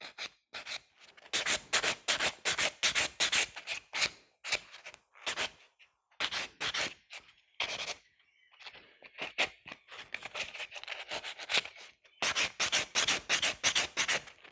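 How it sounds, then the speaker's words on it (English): Rapid rhythmic rubbing strokes of a buffer on a sculpted acrylic coffin nail, close and crisp, coming in quick repeated bursts separated by brief pauses. "I've got just a little bit more buffing to do on this nail."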